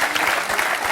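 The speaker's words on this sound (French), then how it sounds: "les applaudissements très fort" A studio audience applauds in a dense, loud wash of clapping across a brief moment.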